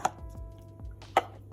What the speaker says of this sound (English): 1 large size avocado, cut into slices